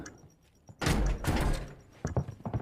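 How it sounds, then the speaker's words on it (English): A door opening during a tense Call of Duty esports round, two loud broadband thumps with rattling, then quieter knocks and shuffles, up close with no talk. "Doors make noise."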